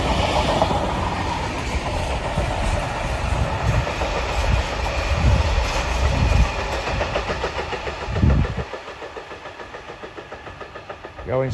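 A freight train running from Doncaster Wood Yard to Fairwater Yard rolls slowly past near Willington, with a rumbling engine and rhythmic clickety-clack of wagons close by, fading toward the end.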